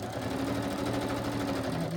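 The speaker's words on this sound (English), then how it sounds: "As you can see, I'm stitching them straight away. I'm not worried about the glue. My poor sewing machine." A sewing machine stitches through paper pieces with a dense, rapid mechanical whir and steady clatter, close and continuous throughout.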